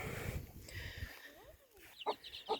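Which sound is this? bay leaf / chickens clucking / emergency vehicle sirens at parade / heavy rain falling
chickens clucking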